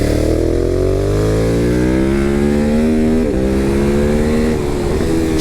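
A Ducati Hypermotard 950 motorcycle is ridden on a race circuit, with a loud, close onboard engine note that revs upward through the gears, drops briefly at a shift, then climbs again without pause.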